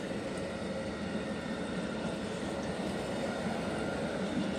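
An Auto Train rolls slowly past, a steady, fairly faint continuous rumble and rail noise with no voices.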